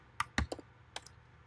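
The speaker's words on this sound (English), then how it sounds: "I'm typing ls minus lt," A few quick keystrokes are tapped on a computer keyboard, close and crisp, in a short irregular burst of about five clicks over faint background hum.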